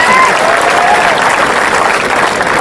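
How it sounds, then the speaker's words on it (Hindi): Steady, dense applause from a large audience, loud and continuous throughout with no pauses. "मेरे स्वागत में दोबारा जोरदार तालियां बजाएं"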